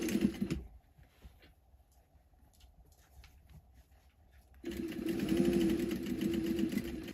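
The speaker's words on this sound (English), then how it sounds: "I'm just going to sew this on my sewing machine as close to the edge as possible" A sewing machine stitches along the edge of a fabric scrunchie, a quiet rapid mechanical whir starting after a short pause and running steadily to the end.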